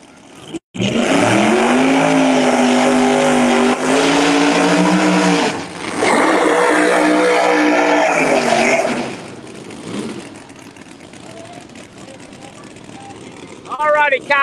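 Drag race cars, including an Audi, launch on a two-step at a street outlaws event, loud crackling engine bursts that swell and cut off twice before fading, with a commentator talking throughout.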